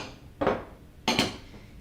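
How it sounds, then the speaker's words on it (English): Spoon or spatula stirring chocolate into vegan banana cake batter in a bowl, two brief scraping, clinking bursts against the bowl with quiet pauses between, close and fairly soft. "Mix it all together."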